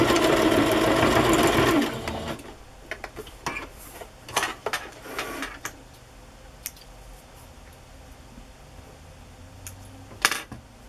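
Sewing machine stitching a Kantha quilt journal cover, a short loud burst of steady mechanical whirring, then quieter handling clicks and taps.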